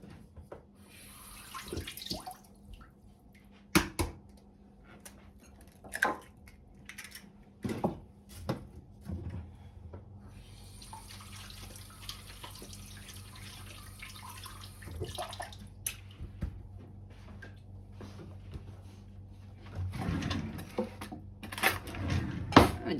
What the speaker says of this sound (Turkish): Şöyle yumurtayı yıkayıp geleyim.